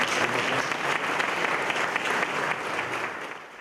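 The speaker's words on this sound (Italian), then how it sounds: "Applausi da una platea di autorità politiche e istituzionali" An audience of political and institutional officials applauds, a full steady patter of clapping that tapers slightly toward the end.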